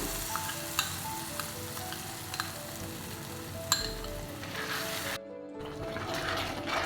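Ground masala for a coastal-style prawn ghee roast hits a hot pan and sizzles steadily, with scattered scraping clicks of stirring and a brief lull near the end before the frying resumes.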